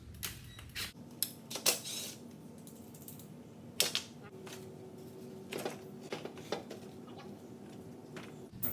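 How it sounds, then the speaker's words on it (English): A ratchet clicks in short bursts while loosening bolts on the back of an old bench, rapid pawl ticks and occasional metallic knocks spaced irregularly in a quiet room, with faint speech at moments. "I'm just using a ratchet on the back for these bolts."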